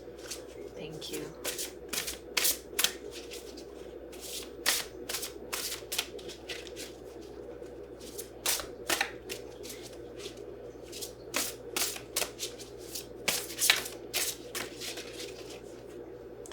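Oracle cards shuffled by hand in repeated brisk riffling bursts with brief pauses between, close and clear, while a person talks quietly at times.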